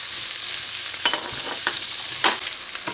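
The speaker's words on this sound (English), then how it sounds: "Now I'm going to add in the garlic. And I'm going to saute until it starts to turn light brown in color." Garlic sautés with onions in a hot pan: a loud, steady sizzle with a few brief scraping stirs, and no voices.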